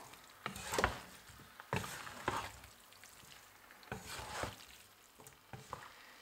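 Malaysian shrimp stir-fried noodles with green onions being tossed and stirred in a pan, faint sizzling broken by several irregular scraping and clattering strokes of a wooden utensil.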